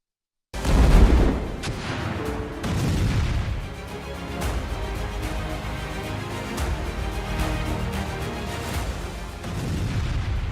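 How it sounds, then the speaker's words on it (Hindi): Indian-made ATAGS towed artillery gun firing, a heavy boom opening the sequence followed by rolling rumble and further distant blasts over a sustained loud background, with no voices. "स्वदेशी तोप की आग, दुश्मन के ठिकाने खाक।"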